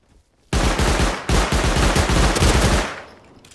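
Rapid automatic gunfire in a video game rattles loudly in two long, continuous bursts with a brief gap between them, then cuts off into a fading tail.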